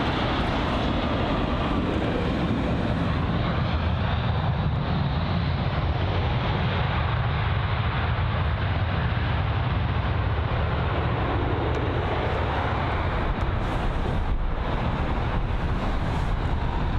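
An Aer Lingus Airbus A320-200 at London Heathrow gives a broad, loud, sustained jet roar that swells and holds throughout, with no talk.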